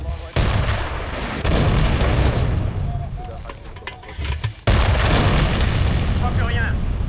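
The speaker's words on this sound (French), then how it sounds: "Tir ennemi à 8h, 9h et 10h." Enemy gunfire and explosions from a war film set in Iraq in 2015: heavy booming blasts and dense rattling fire fill the whole stretch, with sharp onsets near the start, at one and a half seconds and again near five seconds.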